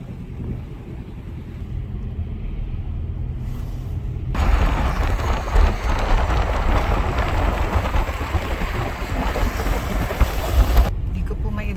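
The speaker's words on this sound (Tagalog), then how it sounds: "kasi malakas po kasi yung hangin" Strong wind roars across the microphone outdoors, surging louder midway through, with a low rumble throughout and a voice faintly underneath.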